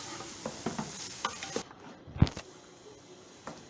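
Green peas roasted in a pan over a full flame for aloo matar bharta, with a bright sizzle under a run of quick scraping, rattling stir strokes, then a single hard knock of the utensil and quieter frying afterward.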